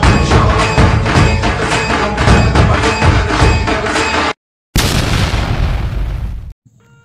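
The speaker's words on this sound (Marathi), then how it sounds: "धमाका" Explosion boom sound effect used in a CapCut status edit, a loud sustained roaring burst that cuts off briefly, then returns as a second blast decaying into a rumbling tail before ending.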